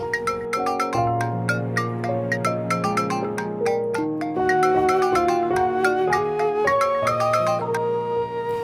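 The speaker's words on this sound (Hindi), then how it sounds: "सोहा, तुम्हारा फोन बज रहा है।" A mobile phone ringtone plays a bright, continuous melodic tune of repeating synth notes, steady and fairly loud, with no voices over it.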